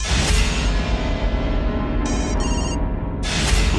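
An electronic phone ringtone plays continuously, loud and close, with a bright repeating chime pattern and no talking.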